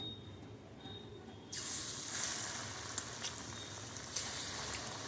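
Vati dal vada batter going into hot oil starts a loud, bright sizzle partway through. Before that only a faint hum of the heated pan is audible, and the frying continues with small crackles and pops.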